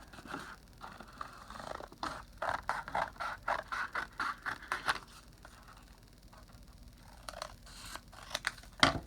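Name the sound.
scissors cutting out paper shape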